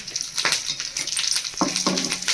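Green chillies hit hot oil already holding popped mustard seeds and curry leaves, giving a bright crackling sizzle with short bursts of stirring scrapes.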